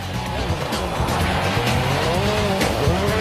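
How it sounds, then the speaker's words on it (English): A rally car in a 2003 world championship event races over snow in Sweden on special tyres, its engine loud and close, revving and shifting pitch through slides. "Driving on snow in Sweden demands special tyres and a very special skill."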